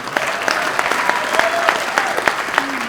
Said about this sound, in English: Don't clap up, everybody, because I got a list.